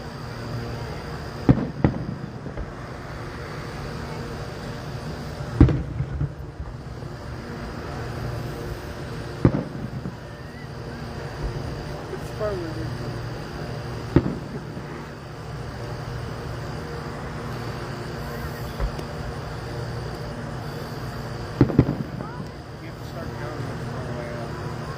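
Fireworks burst at a show in Leitchfield, Kentucky, with distant booms popping every few seconds over a steady low rumble of crowd noise, and people talking nearby throughout.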